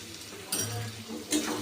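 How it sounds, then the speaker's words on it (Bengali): Spice paste and salt are stir-fried in a pan for a chicken dish, with a soft sizzle underneath and two distinct scraping clinks of a spoon against the pan. "লবণটাকে দিয়েও আর একটু ভালো করে কষে নিচ্ছি"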